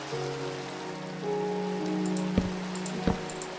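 Steady rain patters on surfaces in a Minecraft-style village on an ocean biome, a continuous close hiss with a few sharp taps and a soft sustained tone underneath, no talk.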